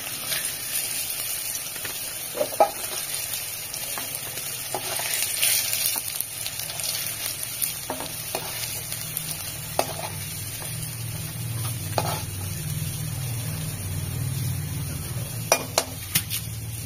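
Paneer frying in hot oil in a kadhai, a low steady sizzle under scattered clinks of a spoon against the metal pan, with a faint background hum throughout.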